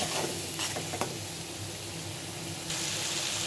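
Spice paste of ground cumin, other ground spices and salt sizzles steadily in a hot pan, a continuous close frying hiss with a few light stirring scrapes, no voices.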